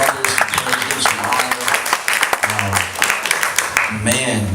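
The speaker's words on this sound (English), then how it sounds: "Can we just give them a hand clap?" An audience claps for mothers at a church Mother's Day service, a dense wash of applause running throughout with a voice speaking over it.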